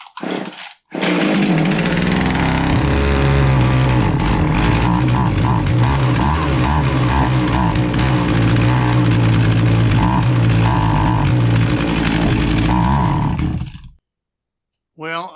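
A Jonsered 2050 chainsaw runs loud and close for about thirteen seconds, its engine bogging with a rough, labouring roar that never climbs to full speed, then cuts out.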